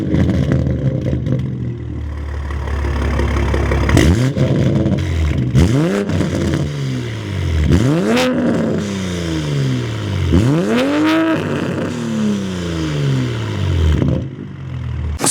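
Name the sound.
Toyota A90 Supra with SP1X exhaust revving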